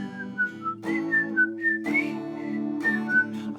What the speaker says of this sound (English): And then another whistles.